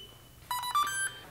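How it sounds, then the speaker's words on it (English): An SMG EVO handheld gimbal stabilizer gives a short electronic beep sequence of a few quick tones, clear and close in a quiet room, lasting well under a second. "you'll hear another beep."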